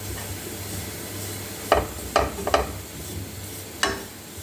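Kunafa dough being stirred and fried in a pan over the heat, a faint steady sizzle under a few sharp scraping strokes of the utensil against the pan.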